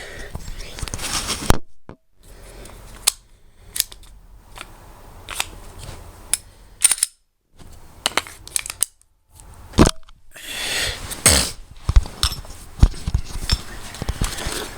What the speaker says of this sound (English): Let me take it down real quick and show you that reset.